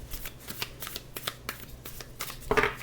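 Tarot cards being shuffled close by, a series of quick riffling bursts in an uneven rhythm, ending with a louder flurry.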